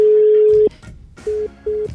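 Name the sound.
telephone keypad dialing tones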